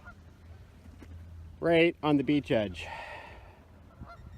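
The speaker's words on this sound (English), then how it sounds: "And a whole whack of geese came in again. It was loud." A flock of geese on a beach lets out a burst of loud, close honks in quick succession, followed by quieter surroundings and faint talk.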